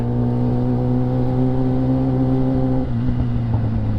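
A car on a road during a morning ride near Tagaytay: a loud, steady engine drone with a constant hum throughout, shifting in pitch near the end as the car passes close by, with no voices.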